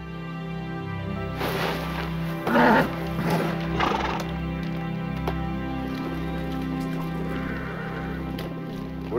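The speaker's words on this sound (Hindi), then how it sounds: "घोड़े तैयार करिए।" Horses being readied neigh and whinny nearby while hooves clip-clop softly, set over a steady low hum, with one louder whinny burst near the middle.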